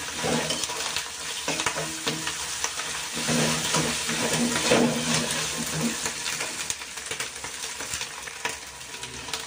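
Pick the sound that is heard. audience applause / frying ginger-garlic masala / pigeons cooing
frying ginger-garlic masala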